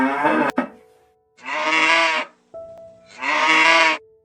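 A cow on a farm moos twice, each call a loud, sustained, bleating low lasting about a second, with a short pause between them and nearby sound before the first.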